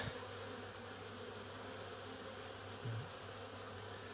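Bees hum steadily around a hive during a relocation in Sunbury, a continuous close drone of many insects with a slight swell near the end and no talk.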